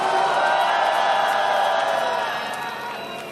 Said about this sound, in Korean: 우리 이부영 선생님께 다시 한번 큰 박수 부탁드리겠습니다.